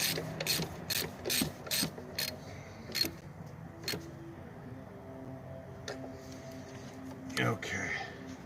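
A hand ratchet clicks in quick bursts while tightening a bolt on the engine of a 2000 Jeep Grand Cherokee during an ignition coil and spark plug job, close and crisp, with someone speaking quietly between strokes.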